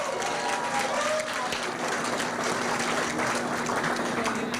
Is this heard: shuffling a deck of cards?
no